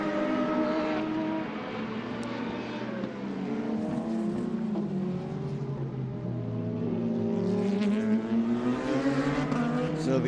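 Racing cars on a circuit, including Formula 3 cars chasing another car, with several engine notes rising and falling as they pass in a continuous, loud stream of overlapping revs and gear changes.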